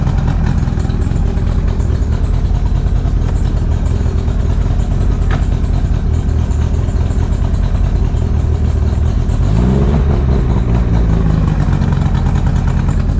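Mercury outboard engine on a 2008 Tracker boat running steadily in forward gear, a loud continuous drone with a shift in pitch near the end and no talking.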